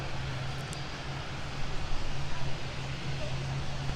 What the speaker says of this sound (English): The ATR 72 on taxiway mic.